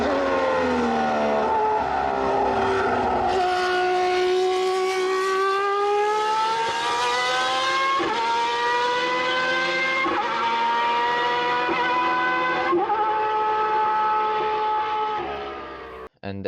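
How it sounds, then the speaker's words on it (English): A Formula 1 engine howls in a loud sustained roar, its pitch climbing and dropping through gear changes as the car races past, then cutting off abruptly at the end. "they made a deep roaring sound that you're gonna hear"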